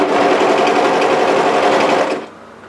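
A sewing machine runs steadily at speed, stitching the raw edges of a sweatshirt together, loud and close for about two seconds before stopping abruptly.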